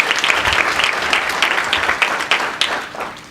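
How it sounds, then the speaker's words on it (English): Loud, dense applause from an audience cheering on CHI team members at Ohio State's Center for Higher Education Enterprise, a thick continuous patter of many hands that tapers slightly at the very end. "round of applause for all of my CHI team members"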